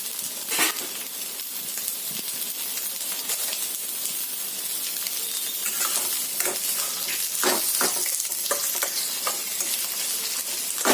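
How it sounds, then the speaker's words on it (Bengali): Chopped onions and green chillies fry in a pan of hot oil, a steady close sizzle running throughout with repeated scraping stirs cutting in at irregular intervals, no voices. "একটু পেঁয়াজটা ভেজে নিচ্ছি"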